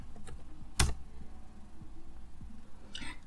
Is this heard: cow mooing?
no